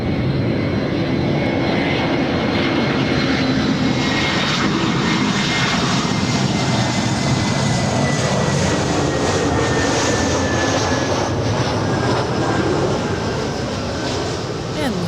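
Air Canada airliner landing on runway 24 right at LAX, a loud continuous jet engine roar with a slowly shifting whine as the plane passes close by, with voices underneath.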